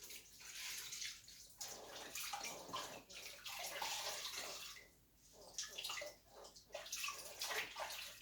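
Clothes are rinsed by hand in a pan of water at an off-grid homestead, with continuous close splashing and sloshing that comes in irregular surges and brief lulls, and no talk.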